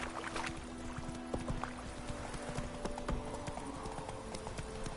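Roach the horse gallops in Witcher 3, with a steady, quiet clip-clop of hooves running through the whole stretch over soft game ambience.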